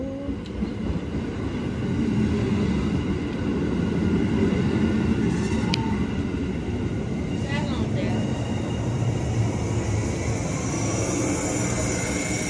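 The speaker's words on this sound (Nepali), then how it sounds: "ट्रेन आयो" A train pulls into a station with a loud, steady rumble that lasts the whole time, while people talk nearby.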